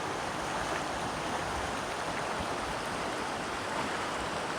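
The Gila River rushes at a hiking crossing, a loud, steady, broadband roar of fast, deep water, close by with no voices.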